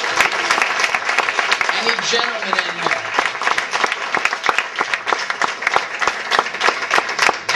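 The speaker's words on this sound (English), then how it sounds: "Clap your hands for them." A crowd at a Catholic talk claps, giving dense, sharp applause that holds for several seconds while a speaker keeps talking over it.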